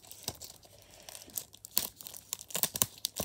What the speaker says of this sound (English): So I'll take this out the cover. Cover quickly. So I can unwrap it.